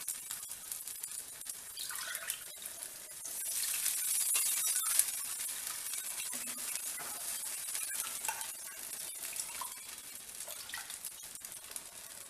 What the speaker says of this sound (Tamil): கட்டிப்படாமல் நல்லா கிண்டிடுங்க